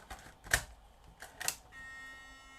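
A Sony CCD-FX620 8mm Handycam camcorder tries to load a tape, giving two sharp mechanical clicks, then a steady faint whirring hum from the mechanism, heard close and without talk.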